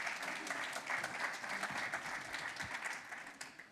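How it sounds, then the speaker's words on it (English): Steady round of applause from the audience at a housing awards event, moderately faint and evenly sustained for a few seconds before thinning out. "Round of applause for Councillor Roach, please."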